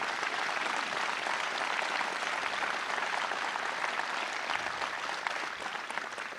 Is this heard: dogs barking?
no